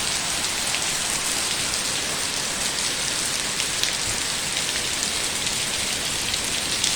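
Heavy rain pours outdoors in Manga, Minas Gerais, Brazil: a loud, dense, unbroken hiss of drops striking surfaces, steady throughout with no voices.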